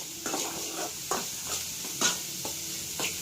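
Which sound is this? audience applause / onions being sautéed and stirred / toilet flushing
onions being sautéed and stirred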